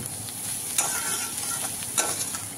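Leftover khoa (mawa from making ghee out of malai) stirred in a kadhai to warm and soften it: a steady close scraping and soft sizzle, with two louder scrapes of the spoon.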